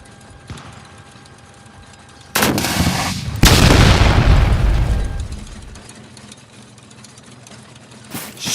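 Anti-tank fire explosion effects in a toy soldier stop-motion battle scene sound as two sharp booms, the second loud and rumbling away over a couple of seconds, with another blast at the end.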